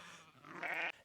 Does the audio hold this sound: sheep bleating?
yes